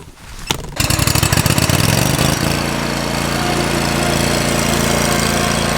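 A riding lawn mower's engine catches after a brief quiet moment and then runs loud and steady with a rattling, chugging drone as the mower is driven around, with no talking.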